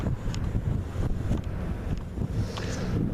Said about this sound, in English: Flags are flapping in the wind